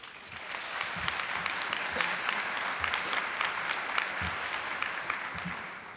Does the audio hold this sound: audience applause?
yes